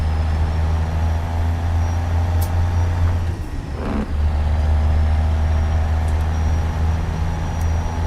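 An old Kenworth W900 truck engine idles with a deep, steady rumble, loud and close, dipping briefly in the middle before settling back to its low drone.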